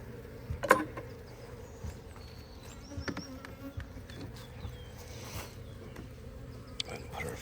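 Honeybees buzz around an opened hive during an inspection, a soft, continuous drone with scattered clicks and small knocks of equipment being handled.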